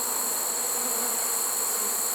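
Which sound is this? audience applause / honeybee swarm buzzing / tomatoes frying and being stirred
honeybee swarm buzzing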